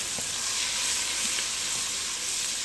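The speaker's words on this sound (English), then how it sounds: "now I'm going to add these onions, and I'm only going to cook them until they're translucent" Onions sizzling steadily in a pan with butter and browned country sausage, a dense continuous close fry hiss with faint utensil taps and no talking.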